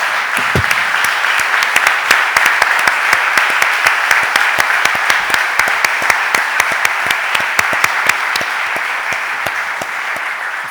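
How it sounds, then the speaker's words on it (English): Loud, sustained round of applause in the Philadelphia City Council chamber honouring coaches, teachers and athletes; dense clapping runs evenly throughout, with individual claps popping out close by. "let's give them a round of applause"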